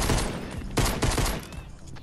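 Rapid bursts of gunfire in Fortnite, crackling shots fired in quick succession over roughly two seconds, loud and close.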